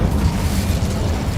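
A fire spell, Incendio, goes off in the Hogwarts Legacy video game as a loud, low, rumbling burst that roars on steadily with no pause.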